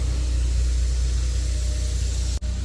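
A Ford Focus ST engine idles steadily and close by with a constant low rumble, belts a little damp after the engine bay was sprayed, broken only by one brief dropout near the end.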